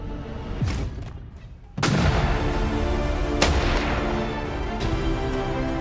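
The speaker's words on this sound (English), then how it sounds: "gunfire echoes across the wild landscape" Gunfire in a wild forest landscape in India during a leopard hunt: four sharp, loud reports spaced a second or more apart, each followed by a long rolling echo across open terrain.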